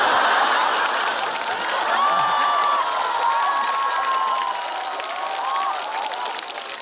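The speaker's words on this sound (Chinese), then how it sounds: "你们鼓掌了" Audience at a stand-up comedy show breaks into sustained applause mixed with cheers and whoops, a dense, lively crowd sound lasting throughout at steady volume.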